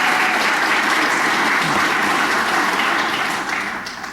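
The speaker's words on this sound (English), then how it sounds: "well-deserved applause." Sustained, dense applause from a seated audience at the Topeka West Sports Hall of Fame ceremony, honoring an inductee who was an assistant basketball coach; steady and loud throughout, easing slightly at the end.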